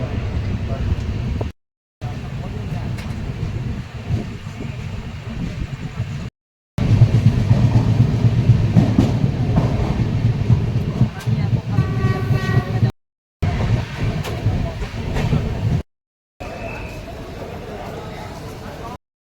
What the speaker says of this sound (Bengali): ট্রেন এসে পৌঁছালো বর্ধমান রেলওয়ে স্টেশন